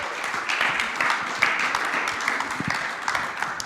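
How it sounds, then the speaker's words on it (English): An audience gives a sustained round of applause for guests on a panel-style episode, a steady crackling wash of many hands clapping at moderate level with a few sharper claps standing out. "can we give these guys a huge round of applause?"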